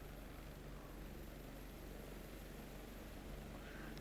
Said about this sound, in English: I know why the helicopter's freaking out.